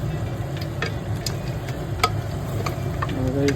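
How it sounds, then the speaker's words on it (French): A spoon stirs tomato sauce in a pan, giving soft scraping and faint ticking contacts over a low sizzling background, close and steady, with no talking. "mélange la sauce,"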